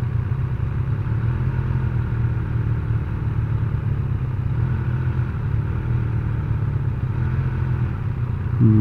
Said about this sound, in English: Seems like the exhaust changes note when you release the clutch.